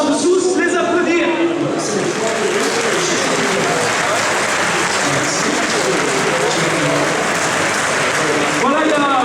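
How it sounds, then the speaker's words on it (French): Audience at an agricultural show in Paris applauding livestock breeders, sustained loud clapping from a large crowd, with a voice briefly audible at the start and end. "je vous demande vraiment de tous les applaudir"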